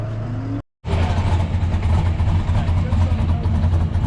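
A drift car with a new setup and a throttle that keeps hanging idles and revs high, loud and close after a brief cutout, with a voice partly audible under the engine.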